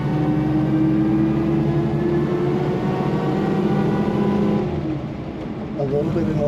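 A 1925 Pierce-Arrow Series 80 Opera Coupe's engine runs with a steady, low, rumbling drone close by, easing off slightly near the end as the gears are shifted; a voice may be faintly present under the mechanical noise.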